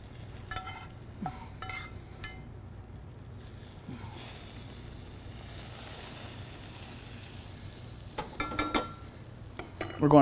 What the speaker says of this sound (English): And pour some of this little fat on top.